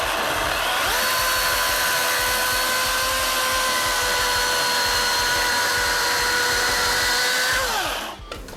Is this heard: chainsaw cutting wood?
yes